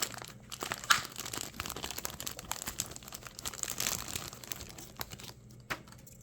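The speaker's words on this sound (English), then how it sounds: "let's go ahead and open up the aligner so you can see what it looks like" Clear plastic packaging around a dental aligner is opened by hand, giving a steady stream of close, crisp crinkling and tearing with a few sharper crackles, and no talking.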